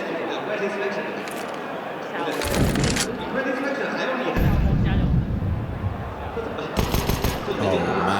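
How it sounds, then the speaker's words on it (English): P250 pistol shots crack in a Counter-Strike match, several sharp bursts in quick clusters amid game noise, with a commentator talking over them throughout. "Those P250 bullets are not far off of the mark"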